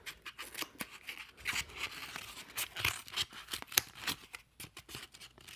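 Scissors snip and crunch through a cardboard egg carton to free one cup, a close, quiet run of irregular cuts with rustling of the carton between them.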